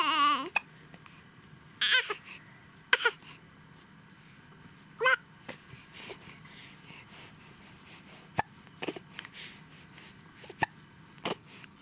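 Baby hiccuping repeatedly in short, sharp bursts spread over several seconds, with soft fussy whimpers and a brief cry, close and intimate in a quiet room.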